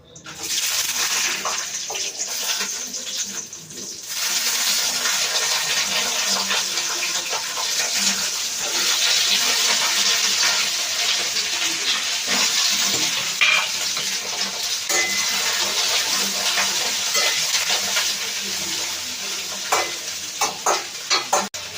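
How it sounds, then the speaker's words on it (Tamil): Dried red chillies, garlic and curry leaves sauté in hot oil for kara chutney, giving a loud, continuous sizzle and hiss with constant stirring scrapes that run unbroken for about twenty seconds. "இப்போ நான் வந்து கார சட்னிக்கு வதக்க போகிறேன். ஸோ வந்து ஃபர்ஸ்ட் காஞ்ச மிளகா, தென் வந்து பூண்டு, அப்புறமா வந்து கருவேப்பிலை."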